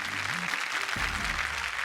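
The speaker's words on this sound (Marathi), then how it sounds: "जोरदार टाळ्या ताईंच्या प्रगतीसाठी होऊन जाऊ दे" An audience at a Marathi television game show claps: a brief burst of dense, steady applause, fairly close, with a faint voice underneath.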